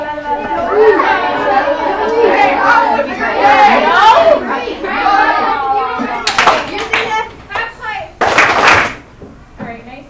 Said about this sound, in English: So clap.